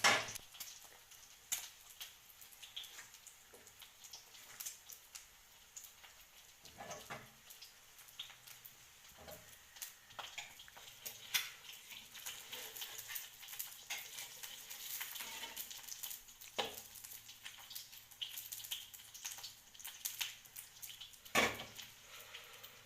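An egg fries quietly in a wok over a low flame. A faint, steady sizzle runs throughout, broken by soft scraping and stirring knocks. Everything stays low in level.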